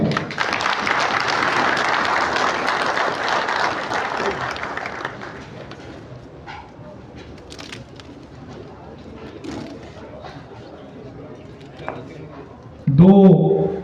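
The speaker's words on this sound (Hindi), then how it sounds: "आप सबकी भरपूर तालियों में सीनियर उस्ताद मलिक शबीर हुमायूं साहब" Applause from the audience at a prize distribution ceremony honouring ustads, a dense, steady crowd clapping that fills the first five seconds and then fades into scattered background noise.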